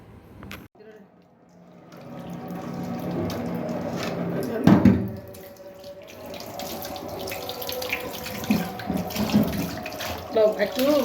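A tap runs steadily into a sink while sea fish are washed, water splashing and gurgling at close range with occasional clatters, and a voice talking over it.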